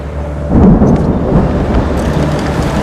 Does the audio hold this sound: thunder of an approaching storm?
yes